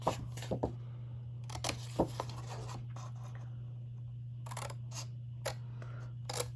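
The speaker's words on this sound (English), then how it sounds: "We're going to cut the bottom, this tab out. We're going to cut the top tab out." Scissors snip the tabs off a cardboard box in a row of short, crisp cuts spread irregularly over a quiet background with a steady low hum, and nobody talks.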